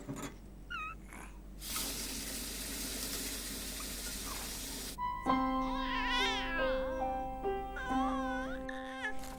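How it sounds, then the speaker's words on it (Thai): A kitchen tap runs in a steady rush while dishes are washed, then stops, and a cat meows several times, rising and falling, close by. "เดี๋ยวพี่เอาจานเป็นล้างก่อน"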